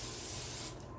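Cooking spray hissing steadily from an aerosol can onto disposable baking pans, a single close, continuous burst that cuts off near the end.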